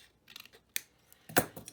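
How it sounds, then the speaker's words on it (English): Scissors snip through paper in a few short, crisp cuts, close and clear, with a louder final snip. "Just take my scissors,"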